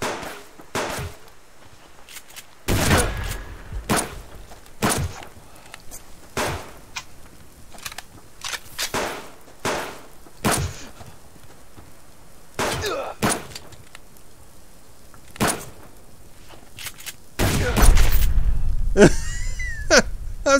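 Gunfire in the survival video game The Subsistence, a string of sharp, loud shots at uneven intervals with a louder burst near the end, with occasional speech between them.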